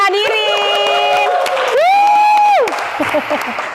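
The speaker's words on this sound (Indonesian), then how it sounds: "Tepuk tangan hadirin." A live audience applauds amid loud cheering, with drawn-out vocal whoops and shouts riding over steady clapping, close and energetic.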